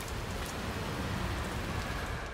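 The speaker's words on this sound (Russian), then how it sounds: "что так дождь идет" Steady, dense rain pattering on a surface in the video game Hitman 3, a constant wash of noise with no pauses or voices.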